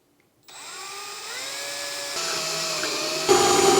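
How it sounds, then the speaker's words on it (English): A power drill whirs steadily, its pitch rising and shifting as it pre-drills screw holes in wood, loud and close, with no voices. "Then I'm going to pre-drill for screws."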